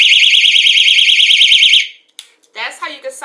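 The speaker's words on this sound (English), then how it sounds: "pick up your personal audible alarm with LED strobe and flashlight" Personal audible alarm with LED strobe and flashlight shrieks loudly with a fast warbling, pulsing tone for nearly two seconds, then cuts off abruptly before a voice starts talking.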